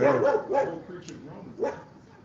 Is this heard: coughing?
no